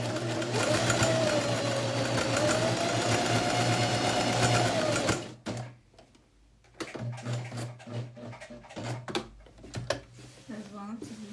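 Sewing machine stitching a bag pocket, a fast steady whirring run that stops halfway, followed by fabric handling and someone talking up close.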